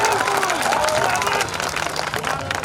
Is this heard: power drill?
no